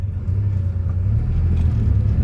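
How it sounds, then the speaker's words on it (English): Porsche 911 SC with an air-cooled flat-six engine on the move, a deep steady rumble heard from inside the car, loud and continuous with a slight swell in the second half. "Nothing quite like an air-cooled Porsche flat six."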